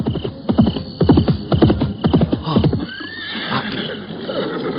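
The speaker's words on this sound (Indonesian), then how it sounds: "Ada pasukan berkuda datang kemari." Horses of approaching cavalry troops neigh and whinny repeatedly and loudly, close by, with clip-clop hooves mixed in, before the calls give way to quieter background sound.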